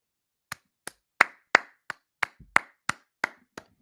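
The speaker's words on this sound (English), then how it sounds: "Pardon me while I stand up and applaud" One person claps about ten times at a steady, unhurried pace. The claps are close, crisp and loud against a silent room.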